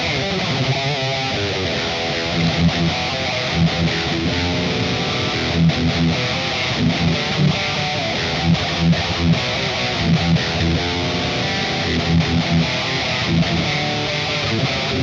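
A dense, sustained distorted electric guitar through a Blackstar Amped 3 and a real cabinet plays steadily throughout, loud and saturated with a gritty amp-driven tone and rhythmic strummed accents.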